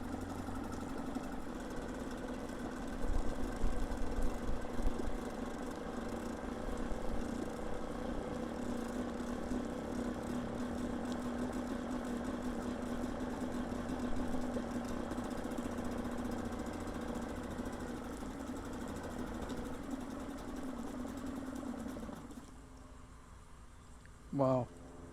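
A Suzuki DF2.5 outboard motor fitted with a remote fuel tank idles in a steady, close, even chug for about twenty seconds, then cuts out, leaving near silence.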